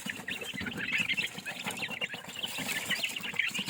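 Chicks clucking and peeping steadily while eating feed in a backyard coop, a busy chorus of many birds close by with no talk.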